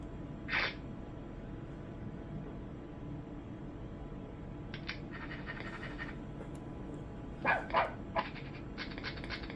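A cartoon dog barks in the Bad Dog computer screensaver: a single short bark, then a quick cluster of several barks later, all fairly faint over a steady background hum.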